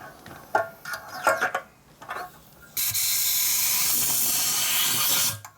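Air blasting out of a hose on a 1988 Harley-Davidson FXR motorcycle during repair work, a loud steady hiss that bursts on abruptly and roars for several seconds before cutting off, after some clanks and handling noises.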